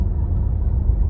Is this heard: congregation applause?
no